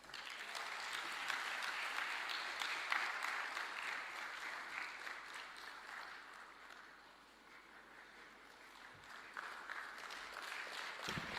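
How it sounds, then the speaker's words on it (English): A large lecture audience at the Thabo Mbeki Africa Day Lecture in Tanzania applauds at length, a dense, roaring clapping that dips briefly midway and then swells again, with no speech over it. "Let's keep the applause going"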